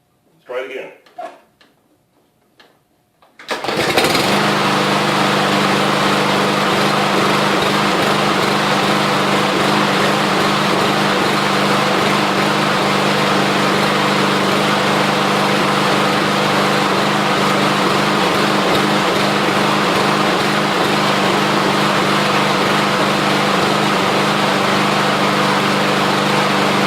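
Troy Bilt lawn mower engine starting after a few handling noises, then running loud and close for over twenty seconds with a slightly uneven, pulsing rhythm.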